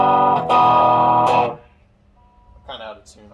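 Distorted electric guitar through a Hughes & Kettner Tubemeister 18 tube amp with the gain raised on the clean channel: two loud, thick chords ring out and decay over about a second and a half, then a quieter strum follows.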